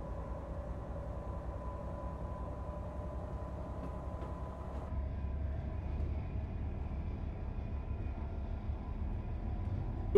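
Steady low rumble of a train rolling along in a video game, with a faint tonal whine above it and a slight rise in loudness midway.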